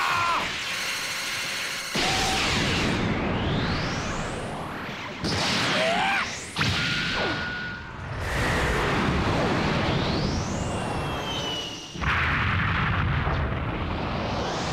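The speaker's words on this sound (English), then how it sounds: "That explosion, he just kicked it away." Explosions from the Dragon Ball Z: Kakarot video game during a Super Saiyan fight with Frieza: loud, dense booming blasts and crashes with sweeping whooshes, several bursts in succession filling the whole stretch.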